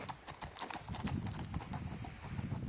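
Horse hooves clip-clop in front of a barn, a quick irregular run of hard hoof strikes at close range, fairly quiet with a low rumble beneath.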